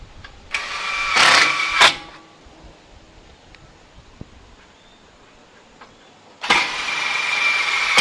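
A power driver runs two longer screws into a latch body during a Coilklik and Viper installation: two loud, whirring bursts near the start, a quiet gap, then another sustained whirring run, close by with no speech.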